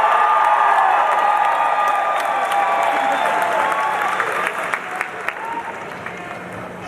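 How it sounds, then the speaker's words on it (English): A rally crowd of people from Southern Maine claps and cheers steadily, with a few whoops rising above the din. The applause thins out toward the end, leaving scattered claps. "Let's hear some applause."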